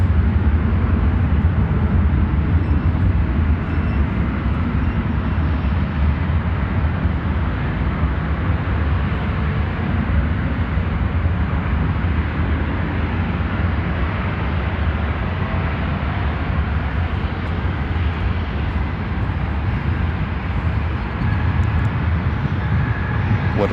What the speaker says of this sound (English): That's going to be FedEx 3857 flight from Oakland in a 767-300 freighter